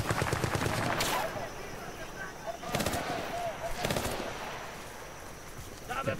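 Pistol gunfire in the shooter game Bad Company 2: three sharp, loud shots spaced about 1.5 seconds apart over steady battlefield background noise.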